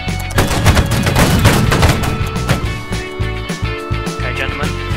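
Musket volleys from reenactors in a line battle of the 4th King's Own Regiment, loud repeated cracking reports with ragged overlapping shots, while voices shout commands nearby.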